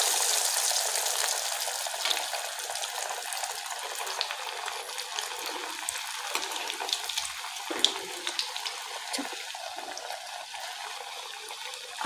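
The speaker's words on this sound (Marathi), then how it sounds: "आता आपण तिला गरम तेलामध्ये छान तळून घेऊया।" Breadcrumb-coated veg burger tikki frying in hot oil, a steady bright sizzle with fine crackling pops, close and continuous throughout, without any talk.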